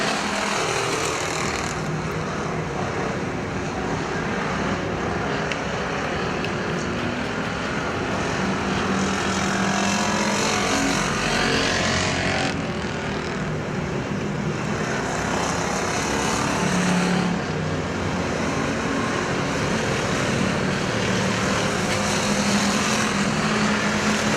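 Factory stock cars racing around the Perris Auto Speedway dirt oval, a loud continuous engine roar that swells and fades as the cars pass, with a steady wash of noise throughout.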